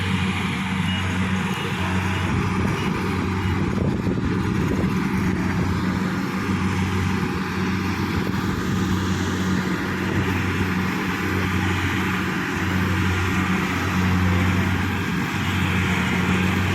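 A hired harvesting tractor's engine drones continuously in a muddy rice field, a loud steady mechanical rumble with a constant hum and no pauses throughout.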